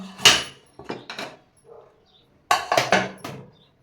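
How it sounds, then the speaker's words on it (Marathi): A lid is lifted off a pot holding a steamed banana-cocoa cake, making a few sharp metallic clunks and rattles in two short bursts separated by a brief quiet gap. "आता आपण झाकण काढून पाहूया"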